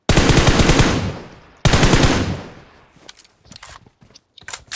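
Bursts of automatic gunfire in the mobile game BGMI: two long, loud sustained volleys, then several shorter scattered shots.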